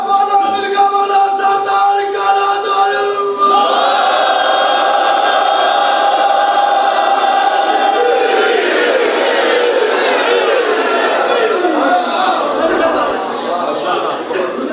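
At a Muharram religious gathering, a large crowd chants slogans together, loud and continuous, with the pitch shifting between phrases as voices swell and carry on for several seconds.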